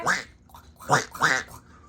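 Three breathy, voiceless quack-like bursts from a person imitating a duck, evenly spaced and fairly close.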